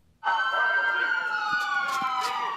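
A loud police siren starts abruptly and wails steadily, close by, with its sustained tone dominating the clip.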